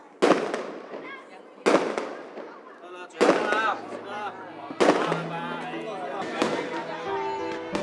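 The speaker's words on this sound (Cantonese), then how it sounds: "聽住唔間斷嘅炮仗聲" Loud firecrackers burst in repeated bangs, roughly every one to two seconds, followed by a continuous rattle of smaller crackling explosions, during New Year celebrations.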